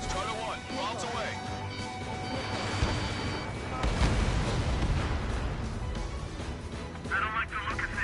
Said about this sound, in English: Strider 1, bombs away.